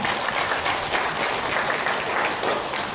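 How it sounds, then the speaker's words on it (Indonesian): Steady, dense applause from a large crowd, clapping continuously at an even loudness for the whole stretch with no voices above it. "Tepuk tangan."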